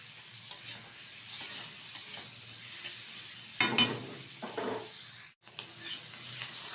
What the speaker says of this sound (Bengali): ছোটো ছোটো টুকরো করে নিয়েছি আলুগুলো, আর পেঁয়াজগুলো কিন্তু কুচিয়ে নিয়েছি। এখন ভালোভাবে একটু নেড়ে চেড়ে নেব।